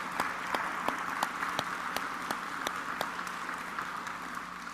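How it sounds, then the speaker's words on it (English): Audience applause at a school State of the Schools luncheon, a steady wash of many hands clapping with sharper individual claps standing out, moderately loud and continuous throughout. "Bethany, please stand and get a well-deserved round of applause."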